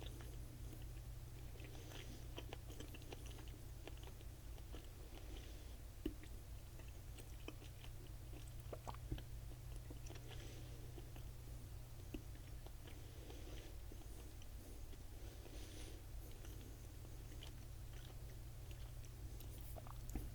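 Slow, quiet chewing of soft, rubbery Japanese gummy candy with a strawberry flavor, close up, with faint squishy bites over a low steady hum and no talking.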